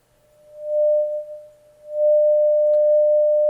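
A Belgrade synthesizer rings in self-resonance through an Erica Synths Black Hole granular delay, producing a pure sustained tone that swells, pulses and dips before holding steady, with a brief click near the end.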